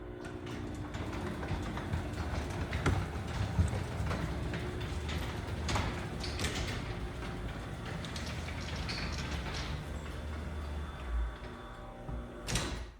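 A LiftMaster 3850 Elite Series 12-volt DC garage door opener runs a 9x7 CHI door down, giving a quiet, steady rumble with intermittent rattles and clunks from the door panels and a final thud at the end.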